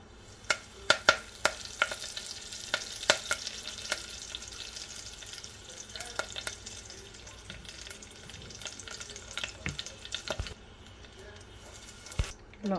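Curry leaves fry in hot oil with a steady, fairly quiet sizzle and crackle, stirred now and then with sharp clicks and pops, as a South Indian moong bean yogurt curry is cooked.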